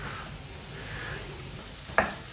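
Onions slipping into hot oil seasoned with kalonji, cumin and ajwain, a soft steady sizzle with one sharp louder crackle near the end, close up and quiet, no talking.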